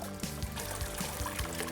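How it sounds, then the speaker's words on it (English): Water flows evenly across a gold sluice box in a steady, continuous wash, with a low rhythmic hum running underneath throughout. "Leg heights are tuned to allow even water flow over the sluice."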